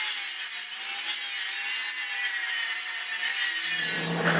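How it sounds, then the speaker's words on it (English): A power sander grinding down a MIG weld on a 1932 Ford frame rail, a steady, loud abrasive hiss held throughout that shifts in pitch near the end as the tool changes load. "So I'm going to hit it with the sander."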